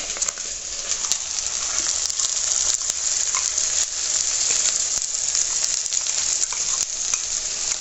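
Beef for Eid korma sizzling steadily in a hot pan after special masala is added, with a dense continuous crackle and occasional stirring scrapes.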